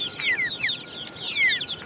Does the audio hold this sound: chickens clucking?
yes